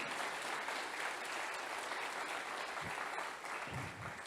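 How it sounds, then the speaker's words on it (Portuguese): A church congregation applauds, a dense, steady wash of many hands clapping that fills the whole stretch at moderate loudness, with a few low thumps near the end. "Aplaude Ele, por isso aplaude."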